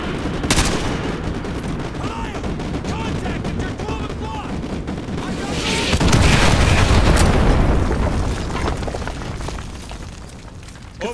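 An artillery strike in Modern Warfare 2 Remastered: heavy booms and rattling gunfire pile up into a dense barrage, swelling loudest midway before easing, with sharp cracks scattered through it.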